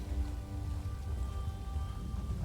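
Rain falls steadily across a green, swampy landscape in the Blackrock expansion of an online game, a constant soft hiss with a low rumbling bed underneath and no talking.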